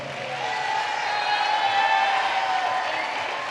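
An audience at a high school commencement ceremony applauds as a soft, diffuse wash of clapping heard from a distance, steady and even, swelling slightly in the middle.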